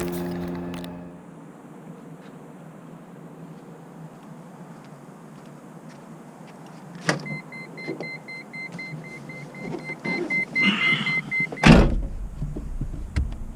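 A Nissan R33 GTR sits quiet at first, then door clunks, electronic beeps and the whir of power windows follow, with a loud door slam near the end, close and clear.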